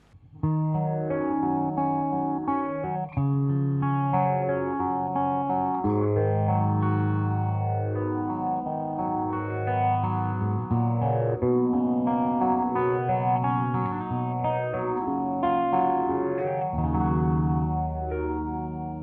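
Electric guitar played through a Foxx foot phaser pedal set to low range and auto mode, strummed chords and riffs continuously swept by a rhythmic swirling whoosh, loud and close for the whole stretch, with no voices.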